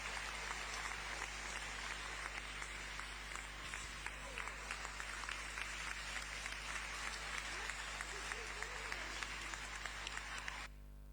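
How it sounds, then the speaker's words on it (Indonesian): A church congregation at a Saturday Novus Ordo mass in Germany bursts into steady, dense applause that runs continuously for about eleven seconds, fairly distant and soft, with a faint hum underneath. "tepuk tangan saudara"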